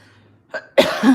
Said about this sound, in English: This stupid cough, I can't seem to get rid of it.